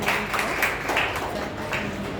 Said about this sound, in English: I want everybody to give them a good applause